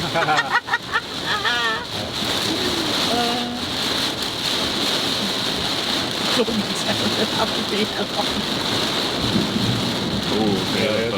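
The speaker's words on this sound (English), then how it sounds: "Now that was thunder" Steady heavy rain hisses throughout a Florida rainstorm while low thunder rumbles underneath, with faint voices briefly audible near the start.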